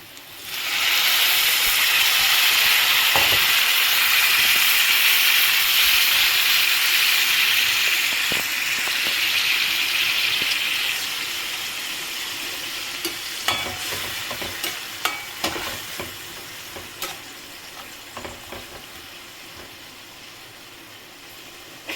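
Loud, close hiss of water hitting a hot pan of shola kochu masala with chilli powder and ginger, steady for about ten seconds before fading into softer sizzling with scattered stirring clicks.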